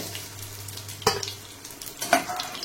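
Paneer cubes fry in a pan with a low, quiet sizzle, broken by two sharp clinks of a utensil against the pan, no talking.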